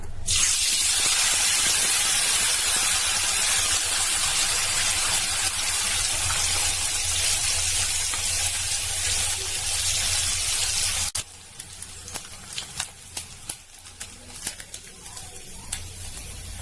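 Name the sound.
fish frying in hot oil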